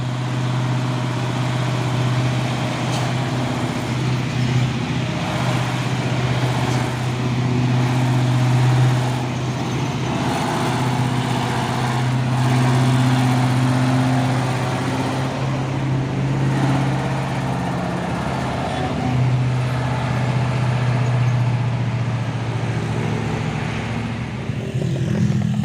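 Heavy Hino 500 trailer truck engine droning steadily under load on an uphill climb, a loud, sustained low rumble with slight swells in pitch throughout.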